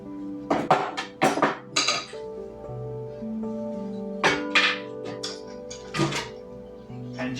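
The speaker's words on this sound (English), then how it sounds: "So the front, for me, is a double Allen wrench. So I'm going to unscrew both sides." Metal tool clinks and clatters while a double Allen wrench unscrews both sides of a scooter's front fork: a few sharp, close taps and scrapes come in clusters with quieter gaps, and a faint electronic hum runs underneath.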